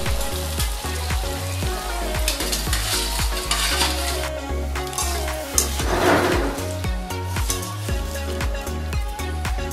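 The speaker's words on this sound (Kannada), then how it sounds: "ಚೆನ್ನಾಗಿ ಡೀಪ್ ಫ್ರೈ ಆಗಬೇಕು" Avare (field bean) kurkure snack deep frying in hot oil, a steady dense sizzle and bubbling that runs the whole time alongside rhythmic background music.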